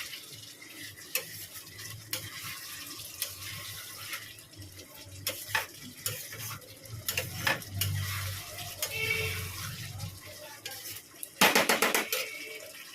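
Mutton being stir-fried with spices in a kadai, soft sizzling broken by repeated clinks and scrapes of a spatula against the pan, ending with a louder burst of frying.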